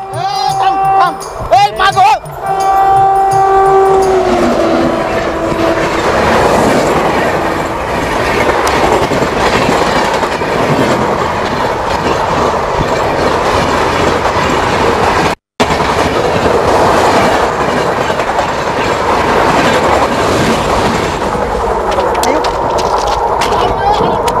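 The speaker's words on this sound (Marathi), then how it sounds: "थांब रे, रेल्वे रेल्वे जाऊ दे." A train rolls past loudly and close, a short horn-like tone at the start giving way to a continuous rumble and rhythmic wheel clatter, with voices talking over it.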